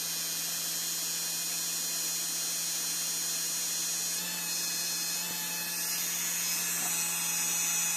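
Small motor spinning at 12 volts, around 10,000 RPM, giving a steady high-pitched whine with a constant hum underneath, close and continuous throughout.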